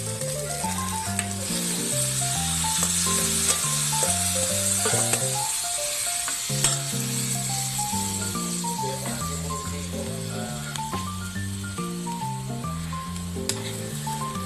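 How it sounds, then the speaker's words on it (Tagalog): Tabugok sautéing in a pan gives off a steady, close sizzle as it is stirred, heard throughout beneath a continuous melodic music track. "Haluin muna natin para ma-mix ang timplada"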